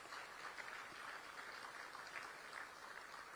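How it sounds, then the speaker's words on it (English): A conference audience applauds the President after his opening speech, producing a steady, dense wash of clapping that holds at an even level throughout without a break. "give the President a round of applause for his very good speech"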